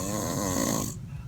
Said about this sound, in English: I totally don't care that you're snoring.